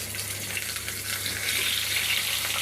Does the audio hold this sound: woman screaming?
no